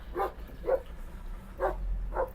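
A dog barks four times in two pairs, short sharp woofs at moderate distance over a low background rumble.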